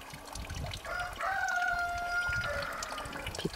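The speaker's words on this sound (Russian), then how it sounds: "петушки голос подают." A rooster crows once at a distance over a steady outdoor wash of trickling meltwater in March in rural Canada, with faint ambient noise throughout.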